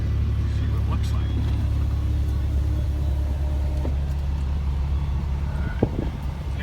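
2016 Dodge Ram 3500 with a tuned 6.7L Cummins diesel, 850-plus horsepower, running with a deep, loud, steady rumble up close and one sharp knock near the end.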